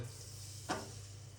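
A brief sizzle as batter hits hot fat in a pan, a short bright burst over a steady low hum, then fading back to quiet crackle.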